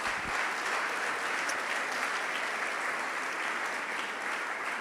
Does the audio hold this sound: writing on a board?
no